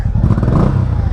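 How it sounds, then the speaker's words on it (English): Close, loud revving from a Honda Shadow motorcycle engine, a brief throttle blip that rises and holds with a rough, throbbing exhaust note. "revs up pretty good"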